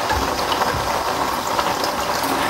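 Tamarind water pours into a pot of cooking kuzhambu in a home kitchen, a continuous close splashing rush lasting a few seconds.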